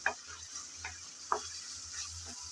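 Shrimp frying in hot oil in a pan for a Bengali cauliflower stalk curry, giving a faint steady sizzle with a few soft stirring clicks and taps, quiet and close with no talking.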